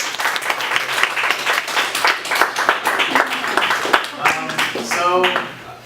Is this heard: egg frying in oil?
no